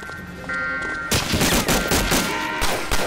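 Sustained gunfire in Medal of Honor: Allied Assault, a dense rattling barrage of rapid shots that starts abruptly after a quiet moment and continues loudly to the end, no speech.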